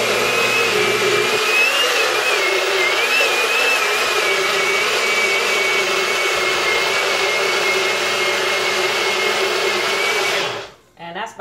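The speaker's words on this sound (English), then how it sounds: "So I'm gonna go ahead and mix up our batter in the Nutribullit." A NutriBullet blender whirs steadily while mixing protein hotcake batter, a loud, even motor drone held for about ten seconds before cutting off abruptly near the end.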